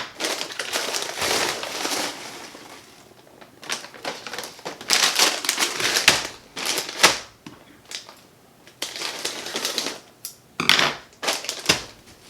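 Frozen peas and carrots rattle and clatter onto trays of an Excalibur food dehydrator in irregular bursts of crisp, hard pattering, loud and close, with short pauses between pours.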